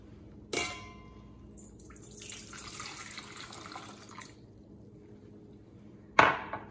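Water poured from a tap into a bowl while making puff puff dough, a sudden knock, then a soft running trickle for a few seconds that fades, ending with another sharp clatter of a dish.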